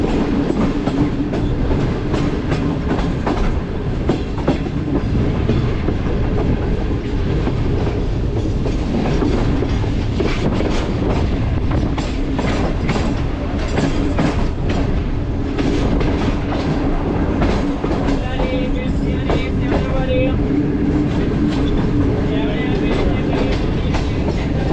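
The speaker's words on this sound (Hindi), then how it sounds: "कोटरी के रेलवे यार्ड में हमारी ट्रेन दाखिल हो चुकी है।" Karakoram Express passenger train rolling through Kotri railway yard, a loud continuous rumble with rhythmic clickety-clack of wheels over rail joints, heard from on board.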